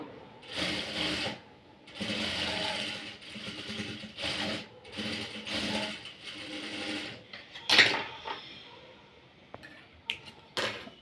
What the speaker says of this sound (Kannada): ನೀಟಾಗಿ ಹೊಲಿಗೆಯನ್ನು ಹಾಕ್ಕೊತಾ ಬನ್ನಿ.